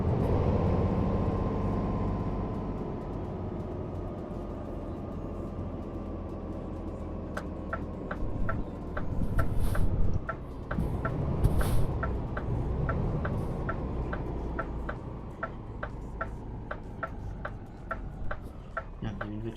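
Steady rumbling truck engine noise from the game Euro Truck Simulator 2, with a run of regular, sharp keyboard and mouse clicks close by in the second half.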